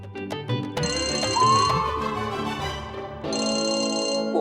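A telephone rings in a home, a loud electronic ringtone that starts, pauses briefly and starts again, with no talk over it.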